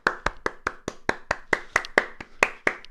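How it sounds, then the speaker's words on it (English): A single person claps for Dom during a hobby live stream, about fourteen crisp, evenly spaced hand claps in a steady rhythm, close and alone with no talk. "So clap for Dom."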